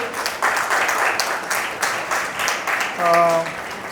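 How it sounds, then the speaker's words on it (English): Brief round of clapping from an audience at a hospital lactation management training session, moderate and rhythmic, ending as a voice cuts in over it. "Dr. Shravani, big round of applause to you"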